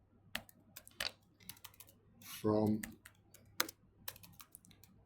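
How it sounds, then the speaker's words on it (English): Quiet keystrokes tap out on a computer keyboard in uneven bursts of clicks, with a short spoken word briefly cutting in midway. "I'll type this as I've got this open on the keyboard"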